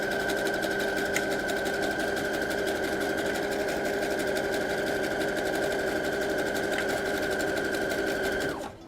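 Sewing machine running steadily at close range while stitching a fabric donut pillow for kids, a continuous even whir and rapid needle chatter lasting almost nine seconds before stopping abruptly.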